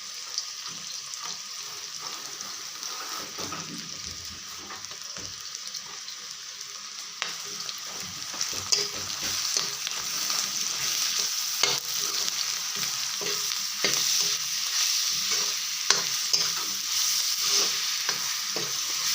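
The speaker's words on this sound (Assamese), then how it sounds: "আদা নহৰু কেঁচা গোন্ধটো নোযোৱালৈকে মই ইয়াক ধুনীয়াকৈ ভাজি থাকিম" Ginger-garlic paste fries in a pan with a steady bright sizzle, while a spatula scrapes and stirs in irregular knocks and scuffs, close and continuous for nearly twenty seconds.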